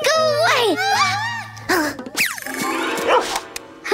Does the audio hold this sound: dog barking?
yes